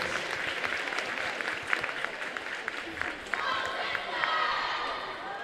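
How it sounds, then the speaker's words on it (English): Applause from synchronised skaters and spectators at an ice rink competition, a sustained wash of clapping with distant cheering, heard under an announcer's voice. "a round of applause from Unum themselves and from the crowd around"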